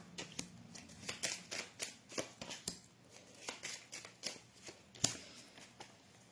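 A deck of cards is shuffled close by with a run of quick, crisp riffling bursts and soft flaps, fairly quiet and evenly paced, with no one speaking over it.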